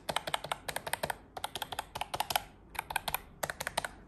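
Fingers type quickly on a budget wireless keyboard sold in a bundle with a mouse, giving crisp, close key clicks in bursts separated by short pauses, with no speech.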